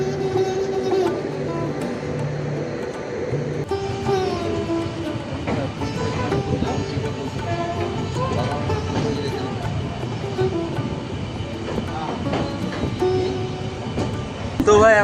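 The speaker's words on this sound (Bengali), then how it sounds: "ট্রেন ছেড়ে দিল মালদা টাউন স্টেশন।" Passenger train running on the rail line after leaving Malda Town station toward New Jalpaiguri, a steady loud rumble of wheels and carriage noise throughout with some voices in the background.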